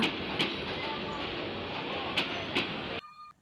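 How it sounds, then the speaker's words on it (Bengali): A train rumbles and clatters steadily nearby as it arrives at a station, with a few sharp metallic clanks, then the noise drops away abruptly into quieter ringing tones. "এই যে ট্রেন এসে গিয়েছে"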